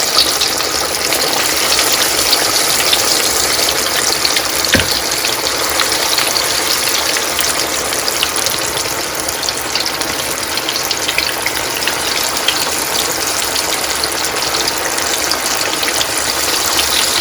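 Fish pakora fries in hot oil, a loud, dense, unbroken sizzle with fine bubbling crackle that holds steady for many seconds, close and with no talking.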